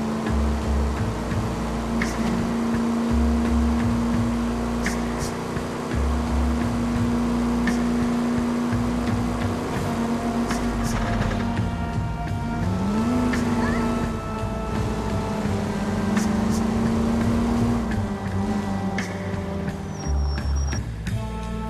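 A car revs and accelerates in the L.A. Noire video game, its engine note climbing, dipping and rising again steadily for about twenty seconds, loud and continuous with road and traffic noise around it.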